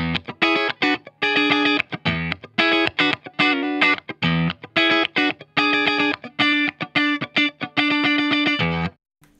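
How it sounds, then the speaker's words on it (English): A riff played on an electric instrument without a Boss CE1 chorus preamp in the chain, delivered as choppy, staccato bursts of distorted notes with short gaps, ending abruptly. "First off, I play the riff without the CE1 in the signal chain."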